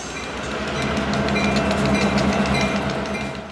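Great Smoky Mountains Railroad diesel locomotives lead a train rolling past on the rails, with a loud, steady rumble and rhythmic clickety-clack of wheels swelling and then easing off.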